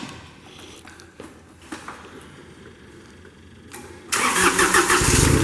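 The Kubota turbo diesel engine of a 2009 Moffett 45P truck-mounted forklift cranks and catches, then runs loudly, with rattling and clatter leading up to a sudden, steady roar near the listener.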